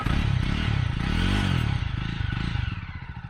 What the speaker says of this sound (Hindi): जो धक धक धक धक धक आवाज़ होती है, ये बड़ी प्यारी होती है